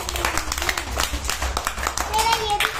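Young schoolchildren in a classroom clapping in uneven bursts, with children's voices and an adult talking over the applause.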